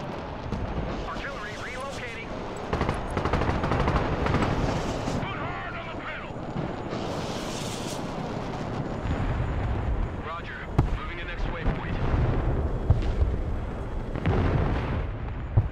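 Artillery and explosions boom repeatedly in Broken Arrow, a dense, loud barrage of deep blasts and rumbling that continues throughout the battle, with someone talking over it.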